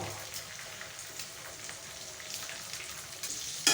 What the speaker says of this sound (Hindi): ये अंडा है, अभी हम इसको फ्राई पैन में डालेंगे डायरेक्ट।